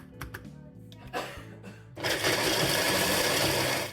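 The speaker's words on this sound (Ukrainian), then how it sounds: "Горіхи подрібнюємо блендером" A blender grinds walnuts for a carrot cake, starting with a few short pulses and then running in a loud, steady whir for the last two seconds.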